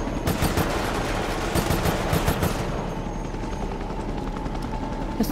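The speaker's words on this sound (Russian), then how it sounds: "Я слышу вертолет." In the video game Resident Evil: Operation Raccoon City, a helicopter's rotor thrum drones on while rapid bursts of machine-gun fire crackle over it, then the shooting thins out and the helicopter's steady hum continues alone.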